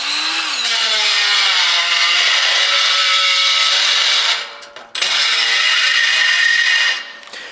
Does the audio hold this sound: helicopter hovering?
no